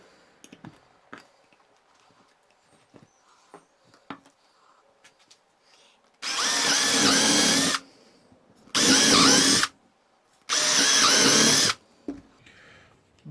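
A power drill with a depth stop whines in three loud bursts of a few seconds each, drilling wood for a garden bench, close by, after a stretch of quiet handling and taps.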